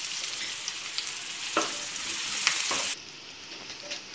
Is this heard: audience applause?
no